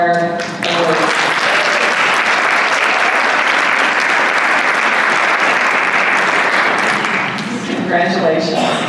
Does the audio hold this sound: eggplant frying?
no